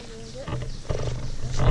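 A cheetah making a low, rumbling cat-like purr close by, mixed with rough growling bursts, while people talk over it.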